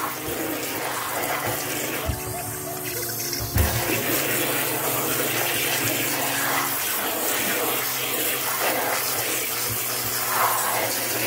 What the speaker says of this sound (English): Now we're gonna rinse it and rinse it and rinse it.